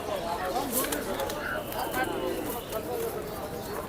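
Soft pigeon coos mixed into a busy pigeon market bustle, with people chatting nearby throughout.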